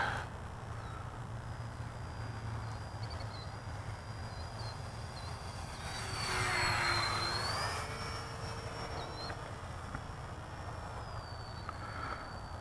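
Dynam Grand Cruiser twin-motor RC plane on a 3-cell battery making a full throttle pass, its electric motor whine steady and moderately distant, swelling louder as it passes close, with insect-like buzz in the background.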